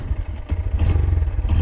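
Steady low rumble with some clatter from a 2022 Honda Grom motorcycle being ridden, close and continuous, building slightly as it goes.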